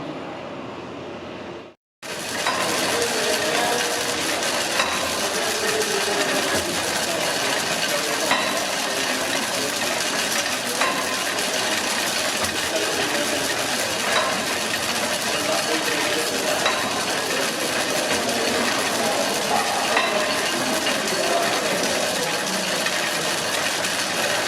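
A beam pumping engine with a great flywheel runs in a continuous, steady mechanical roar with faint rhythmic clanks, loud and even after a brief silent break near the start.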